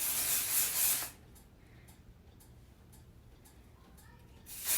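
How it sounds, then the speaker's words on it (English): A loud hissing burst of hair spray sprayed from underneath the hair, then a quiet stretch with faint ticks and rustles before another spray burst begins. "And spray it from underneath."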